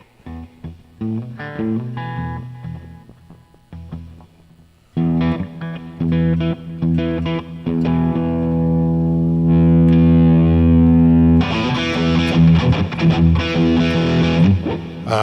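A Harley Benton Big Tone electric guitar plays with heavy distortion and effects, strummed chords and sustained notes ringing loud and close, with no talking.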